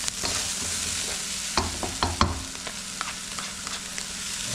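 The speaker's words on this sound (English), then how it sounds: "I'm just going to let these onions and mushrooms cook together" Mushrooms and onions fry in a pan with a steady close sizzle, punctuated by a few scraping stirs and clacks of a utensil against the pan, with no voices.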